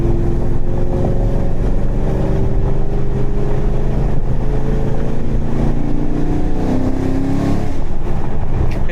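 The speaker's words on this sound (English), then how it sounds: "Still want to warm up the car a little bit." A cammed Chevrolet Camaro Z/28 V8 with an exhaust leak idles loudly and steadily while warming up, its lumpy rumble rising and falling slightly in pitch, heard close with no talking.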